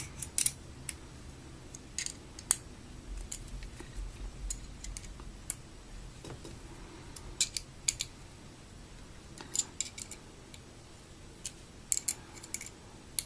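Small bolts on a LumaForce TAC5 flashlight are tightened in a cross pattern, producing faint, irregular little ticks and clicks of a small tool scattered over a quiet background, close up.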